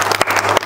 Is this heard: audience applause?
yes